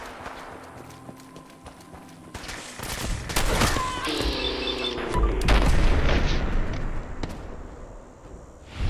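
Gunfire from a firefight in Fallout 4, a burst of rapid shots and booms breaking out after a quiet start and continuing with layered distant and nearer blasts.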